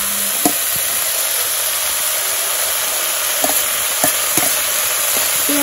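Green chilies and onions sizzle steadily in a hot pan, with a constant bright hiss and a few sharp clicks and pops scattered through it. No one speaks.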